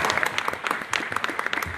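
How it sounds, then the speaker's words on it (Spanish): An audience at the opening of a guarania concert applauds in a brief, dense burst of clapping that carries on without any voices. "¿A quien pido un aplauso?"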